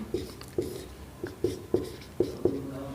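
A pen writes a poet's name in Hindi on paper, a short series of close, soft scratching strokes with small taps at each new stroke, unhurried and quiet.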